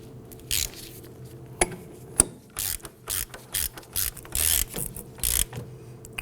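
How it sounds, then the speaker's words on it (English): A ratchet clicks in short rapid bursts while snugging the rear spindle nut on a 2008-2011 Ford Focus during drum brake hardware work, with a couple of sharp metallic taps between the close, moderately loud bursts. "Let's go ahead and grab our ratchet and we'll snug that down."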